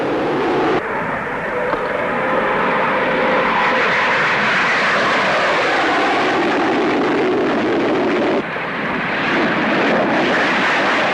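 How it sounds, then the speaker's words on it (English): An English Electric Canberra B-1 medium-range turbojet bomber passes loud and close at an air show, its jet engines a broad roaring whine that swells and shifts pitch across the pass. "Outstanding among the bombers was the Canberra B-1 made by the English Electric Company, a medium-range turbojet of tremendous speed and maneuverability."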